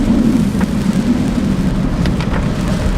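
Steady heavy rain in Wildwood with a low rumble of thunder underneath, continuous and loud throughout.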